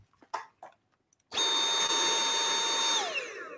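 A vacuum cleaner, quieter than a regular model, switches on abruptly after a few faint sounds and runs with a steady, close motor whine and a high tone, then begins winding down near the end.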